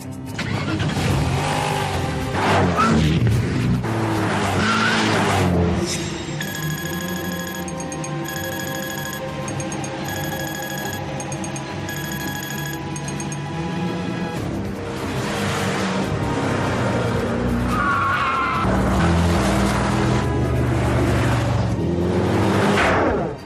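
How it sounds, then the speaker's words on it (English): A hand-built two-seater mid-engine German supercar, the Gumpert Apollo, is heard under a layer of music: its engine note drones steadily, with what sound like revving swells near the start and again after the midpoint. "A hand-built, two-seater, mid-engine German supercar."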